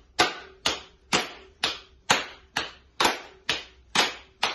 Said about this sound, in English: Or you can clap.